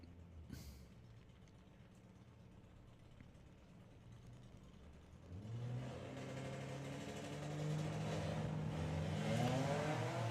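A VW Passat and a VW Bug launch at a drag strip, engines idling faintly before revving up and accelerating hard, the rising roar growing louder and steadier toward the end.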